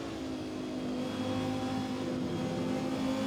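A 640-horsepower car's engine revs hard on a hot lap, a loud, steady, close drone with strong harmonics that holds unbroken and alone throughout.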